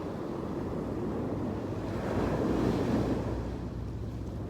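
Ocean waves roll in during a rainy storm, a continuous loud wash of surf blended with wind rumble on the microphone, with no talking.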